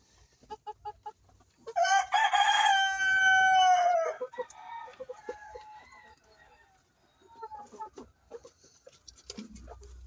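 On a chicken farm a rooster lets out one loud, drawn-out crow near the start, surrounded by scattered clucks and softer hen calls that continue intermittently afterward.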